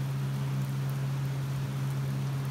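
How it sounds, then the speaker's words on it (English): Heavy rain pours outside a garage where a 1941 Chevy sits raised on two jacks, heard as a soft, constant wash of noise beneath a steady low hum. "Pouring outside."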